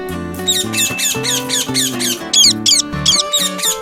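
A cartoon bird squawks and chirps in rapid, high, warbling bursts over bright background music, loud and close in an animated Ninja Hattori short.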